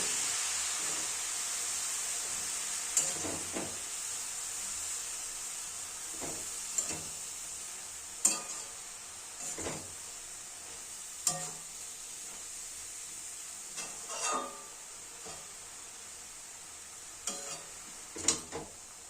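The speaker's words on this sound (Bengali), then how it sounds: "বেগুন ও মশলার সাথে খেসারির শাকটা ভালোভাবে মিলিয়ে মিশিয়ে নেবো" Khesari greens with brinjal and spices are stirred in a pan over a soft, steady sizzle, with a dozen or so scattered scrapes and clinks of the spatula at irregular intervals; no one speaks.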